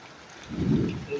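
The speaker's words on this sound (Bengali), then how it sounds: "ভালো বৃষ্টি হচ্ছে ভালো পানি এবং শিলাবৃষ্টি" Heavy rain falls with hail, a dense broadband wash that swells briefly into a low rumble midway through a very short stretch, with no voices.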